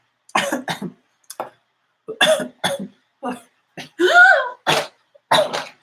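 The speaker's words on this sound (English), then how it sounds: "Like coughing." A series of short, harsh coughs and throat-clearing bursts come in irregular clusters with silent gaps between them, close to the listener.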